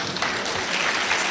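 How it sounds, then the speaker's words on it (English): Warm applause from an audience at a birthday and anniversary celebration, a steady dense wash of clapping that stays loud and even throughout, with no voices breaking through. "Another warm applause for Dr. Chris Okio."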